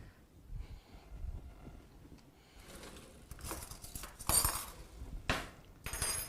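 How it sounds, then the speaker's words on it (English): A spoon scraping and clinking against a small plastic cup of unsweetened applesauce, a few close, soft scrapes and taps that grow louder toward the end. "let's use a spoon and get all the goodies out."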